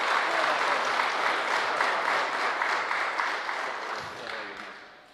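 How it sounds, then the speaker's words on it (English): Sustained applause from a large crowd at a resolution presentation for a senator, dense and steady clapping that gradually fades toward the end. "So y'all give him a round of applause."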